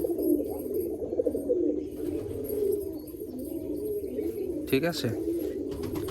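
Pigeons coo in low, rolling phrases close by in a pigeon-selling yard near Baruipur, the calls repeating throughout, with someone speaking briefly and a sharp sound near the end.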